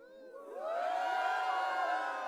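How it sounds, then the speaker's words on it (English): A stock crowd cheering effect, many voices whooping and cheering together, rising in over the first half second and then holding loud and steady to the end. "the really terrible YouTube freebie sound effect of a crowd sort of cheer"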